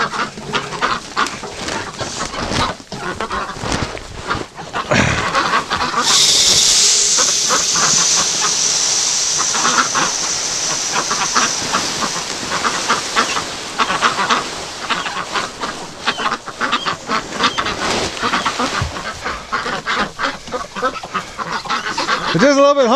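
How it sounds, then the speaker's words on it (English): Hungry breeding ducks eat scraps from a feeder, with continuous close quacking, honking and busy dabbling throughout and a voice talking over them now and then. "That's some hungry ducks."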